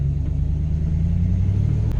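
An old Ford truck with no brakes rolls around a yard, its engine giving a low, steady rumble that holds at a constant level throughout.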